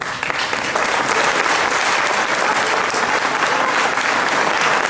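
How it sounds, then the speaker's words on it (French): A crowd at a town New Year's greetings ceremony applauds the green spaces staff and councillors, a full, steady wave of clapping that swells quickly and holds loud throughout. "je pense qu'on peut les applaudir pour le travail réalisé"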